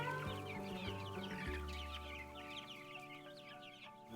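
Farm chickens cluck repeatedly in short, close bursts over a steady background hum, with no talking.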